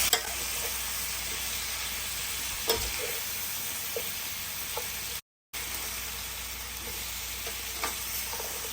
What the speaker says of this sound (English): I'm going to take this time to rotate, or better yet, flip the potatoes